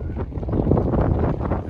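Wind blowing hard on a hilltop outing in Bhojpur, Nepal, a loud rumbling roar of gusts buffeting the microphone the whole way through.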